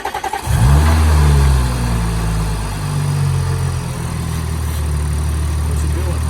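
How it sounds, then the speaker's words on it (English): An Audi S5 engine cranks and fires up, surges loudly, then settles into a steady, deep idle after crank pulley and heat exchanger work, running close by and alone. "We're going to start the car up, and then we're going to let it run through and see how it feels."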